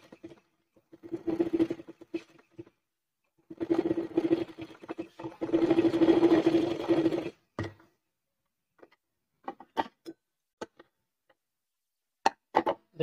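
A sewing machine runs a double quarter-inch seam on a puff sleeve cuff: several short stitching bursts, then a longer steady whir, followed by scattered clicks and handling taps in a quiet room.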